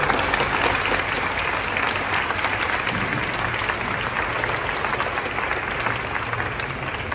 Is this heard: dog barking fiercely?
no